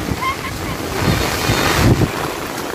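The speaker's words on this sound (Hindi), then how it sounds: "तो हम भी बारिश का मजा ले रहे हैं और बहुत तूफान है दोस्तों" Stormy rain and strong wind in Ajanta town roar close to the microphone, a continuous rushing wash of wind buffeting and falling water without speech.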